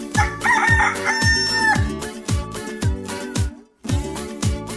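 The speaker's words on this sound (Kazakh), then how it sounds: "әтеш" A rooster lets out a single long cock-a-doodle-doo near the start, loud and close, over a steady thumping children's music beat that briefly drops out before resuming.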